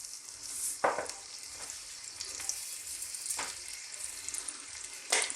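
Shallots, fennel and garlic sautéing in a pan, a continuous close sizzle with a few sharp stirring scrapes and clinks over it and no talking.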